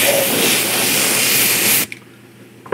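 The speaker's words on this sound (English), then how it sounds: "Can hit this with a hairdryer, it'll dry pretty quick because it's really thin." A hairdryer blows a steady broadband hiss over a thin vinyl figure kit at close range, then cuts off abruptly near the end, leaving quiet room tone.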